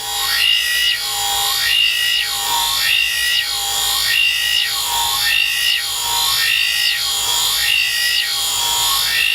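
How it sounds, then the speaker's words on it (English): Shears stroked back and forth across a compound-loaded polishing wheel, producing loud, regular rasping sweeps that rise and fall about every second and a half over a constant motor drone. "We'll add some polishing compound to the wheel, and then we'll start by working our edge"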